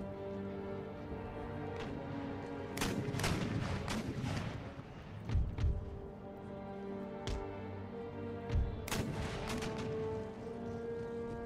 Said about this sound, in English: Howitzers just attack ground right here.